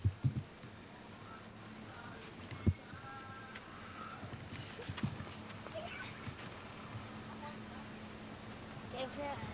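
Horse hooves clip-clop on a farm, a few scattered distinct knocks amid steady background noise, while people talk nearby.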